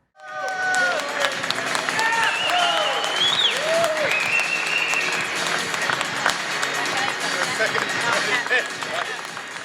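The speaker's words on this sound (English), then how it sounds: "Olli Pakala was presented the first place trophy, and name the winner of the biggest prize in the history of sim racing to the cheers of the crowd." A large crowd applauds and cheers loudly and continuously as the first-place trophy is presented at a Visa Vegas eRace sim racing event, with dense clapping and some voices mixed in throughout.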